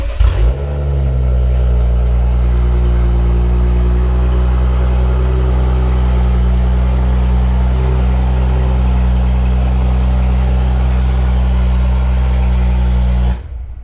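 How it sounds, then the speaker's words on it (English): A BMW F10 with a newly installed downpipe cold-starts with a sharp crank and catch, then settles into a loud, steady high idle with a deep exhaust drone that holds for over ten seconds before cutting off. "we wanted to get a clip of a cold start on the car"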